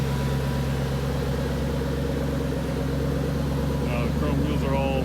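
A 2011 Shelby GT500 with a 750 hp Whipple supercharged engine idling outdoors, a steady deep rumble running throughout with a voice talking over it near the end.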